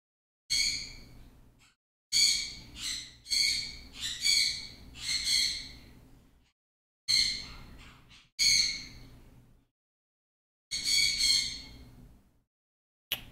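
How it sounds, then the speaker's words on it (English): A pet bird squawks in a string of loud, harsh bursts, some single and some in quick clusters, separated by short silences and heard close up with no voices. "my bird's upset"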